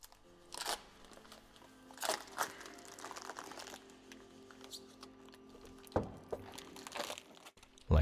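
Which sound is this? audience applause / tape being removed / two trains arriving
tape being removed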